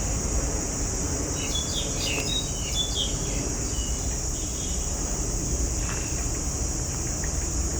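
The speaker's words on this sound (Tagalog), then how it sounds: "ganda pakinggan ng mga ibon." Birds chirp in short, scattered calls over a constant high-pitched insect buzz and a low background rumble.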